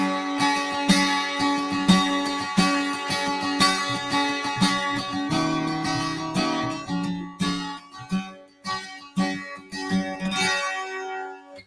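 Bright, shimmering 12-string guitar in Nashville tuning, strums and picked notes with a jangly, high-pitched, mandolin-like sparkle, played alone at moderate pace, some chords ringing out.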